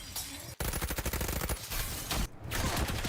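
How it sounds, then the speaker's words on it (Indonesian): Rapid bursts of gunfire, many loud shots in quick succession like a sustained barrage, with brief gaps between volleys. "Tiba-tiba ada sekelompok orang yang langsung menghujani Anna dengan tembakan."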